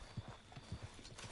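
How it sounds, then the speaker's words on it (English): A horse in a hunting video game trots in after being called, with soft rhythmic hoof clip-clops, faint and brief. "We're gonna call our horse."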